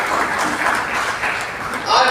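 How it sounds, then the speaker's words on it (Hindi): Loud applause from an audience at a DXN talk in Basudebpur, a dense, continuous wash of clapping that holds steady for about two seconds and swells slightly at the end. "जोरदार ताली होना चाहिए के लिए"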